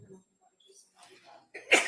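A sneeze bursts out sharply in a courtroom after quiet murmuring, a single loud explosive burst near the end of the moment, with faint voices and shuffling beforehand.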